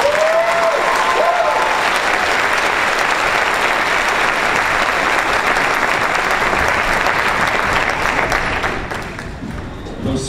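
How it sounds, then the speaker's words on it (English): Enthusiastic audience applause at a middle school choir concert, dense and loud with a couple of whoops early on, holding steady before tapering off near the end. "Please give them a round of applause."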